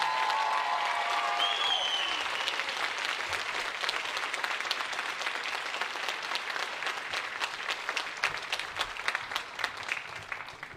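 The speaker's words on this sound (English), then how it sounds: "Please give a big round of applause for all of our awardees tonight." Sustained applause for award recipients at a live senior class ceremony, a large crowd clapping steadily and fairly loudly throughout, with individual claps standing out near the end.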